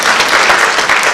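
Audience at an all-women VLE conference applauding, a brief burst of loud, dense, continuous clapping from a large crowd.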